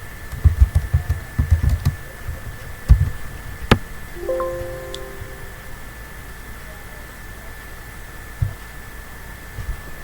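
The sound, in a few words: typing on a computer keyboard in Notepad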